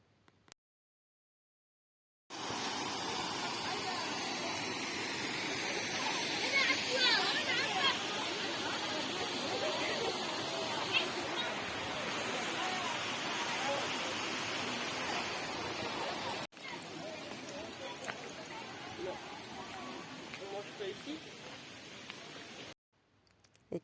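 Rushing water from the cascades at Akchour in the Rif mountains, a steady broadband roar that holds loud and continuous for about twenty seconds, then drops slightly and carries on before cutting out.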